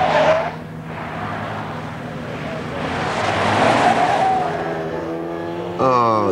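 A Ford Cortina rally car on the Pirelli Classic Marathon 1989 drives past with a steady, building engine roar and some tyre noise, loud and fairly close, with a voice briefly heard at the end.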